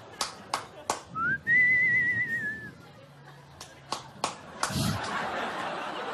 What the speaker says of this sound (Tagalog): Panay yung pito.